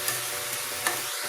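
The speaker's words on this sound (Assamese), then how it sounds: "এয়া অমিতা কেইডোখৰ দি গোটেইখিনি একেলগে অকণমান সময় ভাজি লৈছে।" Mustard greens and amita, a green papaya, are being stirred and fried together in a pan, with a soft steady sizzle and light scraping of the spoon, faint and continuous throughout.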